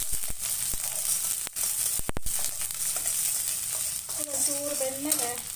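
Chopped green chillies and ginger sizzle in a hot pan, a steady close crackle punctuated by a few sharp spatula clacks and brief stirring scrapes.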